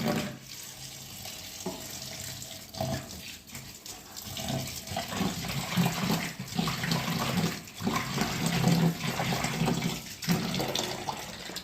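Water runs steadily from a tap into a bowl of grated potatoes, rinsing them for a third time, a continuous splashing flow that swells and dips without any talk.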